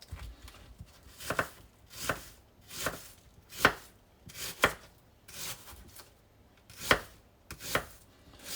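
A knife minces onions and garlic on a board for moules à la provençale, giving about a dozen crisp, close chopping strikes in a loose, uneven rhythm.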